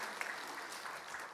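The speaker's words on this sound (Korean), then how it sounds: "우리 큰 박수로 우리 목사님하고 사모님, 우리 교인들 한번 격려하면 좋겠습니다." A congregation at an evening revival meeting in a church applauds, giving steady, soft and distant clapping that holds an even texture throughout.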